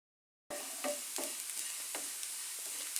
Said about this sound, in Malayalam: ഈ തേങ്ങ ഇനി നന്നായിട്ടൊന്ന് വറുത്തെടുക്കണം.